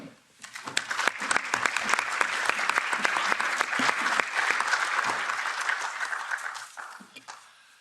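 Members of the European Parliament applauding after an address by Belarusian democratic leader Sviatlana Tsikhanouskaya, a loud, full round of clapping that swells quickly, holds steady with sharp individual claps standing out, then fades toward the end.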